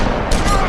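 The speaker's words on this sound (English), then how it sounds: "the Tweedles are sort of known for not messing around with their shotguns at this point" A single loud shotgun blast in The Wolf Among Us, a sudden sharp boom over a dense, noisy game mix.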